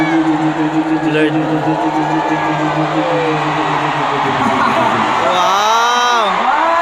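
A large crowd at a Dunkin anniversary thanksgiving concert shouts, whoops and cheers in a sustained roar, with a voice ringing out above the din and a rising yell near the end.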